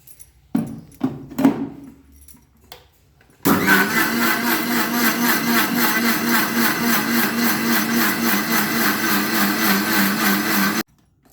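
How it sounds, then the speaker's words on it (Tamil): A kitchen mixer grinder whirs loudly and steadily for about seven seconds, blending papaya with milk, palm sugar and a pinch of turmeric into a milkshake, preceded by a few brief clicks and knocks as the jar is set up. "மிக்சியில் நல்லா பீட் பண்ணிக்கோங்க."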